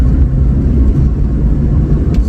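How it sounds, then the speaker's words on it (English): A supercharged V6 Lotus Exige driving with its exhaust valve closed in stock setup produces a steady, subdued low rumble with no sharp peaks. "So this is the stock setup pretty much. So it's very quiet."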